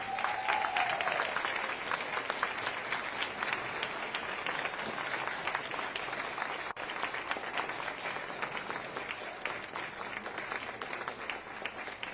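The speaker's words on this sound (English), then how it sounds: "let's give a round of applause for our special guest" A crowd at a ribbon-cutting ceremony for a building trades career center gives a long, steady round of applause for a special guest, dense clapping sustained throughout at even loudness.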